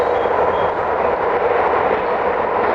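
Spanish passenger train in motion, a loud, steady rail rumble with a hint of wheel clatter that continues unbroken, heard from on board with no talk.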